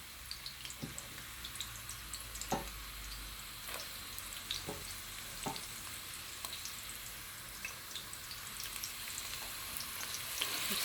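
Sauce with onions frying in a pan, a steady close sizzle running throughout with occasional soft clicks and stirring sounds, no talking.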